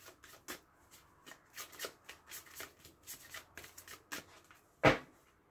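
A deck of tarot cards shuffled by hand gives a run of soft, irregular riffling flicks close up, ending in one sharper, louder snap near the end, with no talk.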